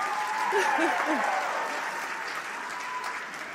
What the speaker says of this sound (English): you could give a round of applause for how wonderful your evening is